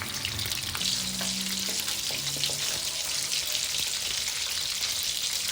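Steady, loud sizzling of salted fish frying in hot oil, a constant crackling hiss with faint clinks of utensils underneath.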